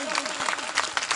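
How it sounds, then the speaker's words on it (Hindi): Applause at a BJP election rally in Badshahpur, Gurugram, a dense crowd clapping steadily for just over a second with some voices mixed in. "जोरदार ताली।"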